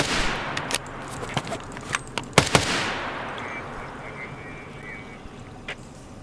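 A rifle on single fire in Escape from Tarkov cracks several times in a quick series of sharp separate shots, with a couple of louder reports near the end before the scene settles into quiet game ambience.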